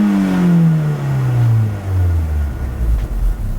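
A sports car engine with standard exhaust revs up loudly and then winds down, its pitch sliding steadily lower over a few seconds, nearby and without talk.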